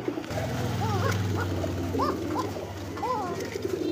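Pigeons coo repeatedly nearby, soft rolling calls over a low steady hum.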